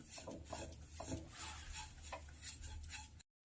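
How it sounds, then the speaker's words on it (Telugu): Semolina (rava) frying in ghee in a kadai for kesari, stirred continuously with soft scraping and rubbing strokes of a spoon against the pan, close and fairly quiet, with a faint sizzle and no talk. "అదే కడాయిలోనే గీ ఉంటుంది కదా దాంట్లో మనము రవ్వను కొద్దిసేపు ఇలా ఒక ఫైవ్ మినిట్స్ లో ఫ్లేమ్లో కొద్దిసేపు మనము ఫ్రై చేసుకోవాలి"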